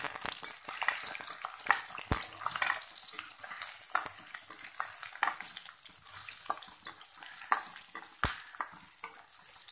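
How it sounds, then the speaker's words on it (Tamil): Ginger, garlic and dried red chilies sautéing lightly in oil for coriander chutney, a busy continuous sizzle and crackle with occasional stirring and two sharp utensil taps against the pan, close up, no talking. "நான் இந்த இஞ்சி பூண்டு கொஞ்சம் லேசாக வதங்கட்டும்."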